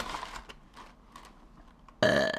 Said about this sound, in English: I got a burp.